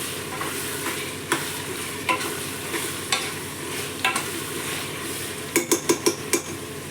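Chicken biryani with coriander leaves is stirred in a pot. A steady sizzle runs under scraping spoon strokes, ending in a quick run of metal clinks against the vessel.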